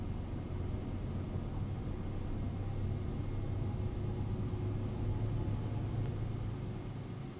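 Steady, continuous jet engine drone of an FFX Vision Jet G2 in Microsoft Flight Simulator 2020, a dense low rumble with a faint high whine, holding level throughout a flight over Chicago with no talk.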